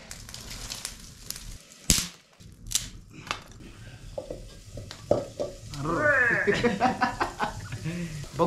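Sprouted bean usal being fried in a pan, starting with clanks and stirring under a voice, then a sizzle that swells and stays bright through the second half while talking continues.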